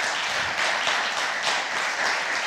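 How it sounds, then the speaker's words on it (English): A church congregation applauds a visiting pastor, a dense, even patter of clapping from many hands that holds steady and fairly loud throughout with no voices over it. "can we just give a round of applause to Mark for sacrificing to come here?"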